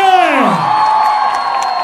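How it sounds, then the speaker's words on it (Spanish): A crowd cheers and whoops at a Petro political rally in Bosa, with a long, loud sliding whoop sweeping downward and then a steady, held cheer for about two seconds. "¡Un aplauso bien fuerte para ella!"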